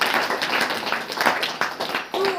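Hands clapping together from a church congregation during a Saturday worship meeting, close and rhythmic with distinct strokes and a brief voice near the end.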